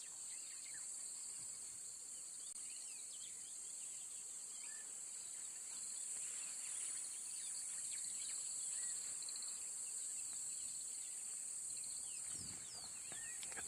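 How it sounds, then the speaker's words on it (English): Cicadas drone in a steady, high-pitched continuous buzz across the whole stretch, faint and outdoors with no other sounds standing out. "You can probably hear the insects, the cicadas."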